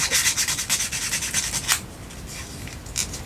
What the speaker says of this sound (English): it's like it fits in a Dremel. I just use it